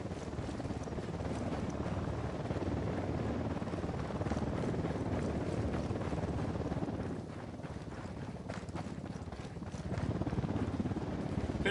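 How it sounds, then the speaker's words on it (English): A helicopter in the video game Ghost Recon Wildlands: rotor thumps and whirs continuously at moderate distance, a steady choppy drone with some wind noise mixed in. "Helicopter, get down."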